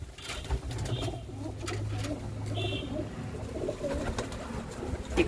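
Pigeons, including a red male, coo in low, drawn-out rolling calls that repeat close by, with a few faint wing flutters and light rustling around them and no talking.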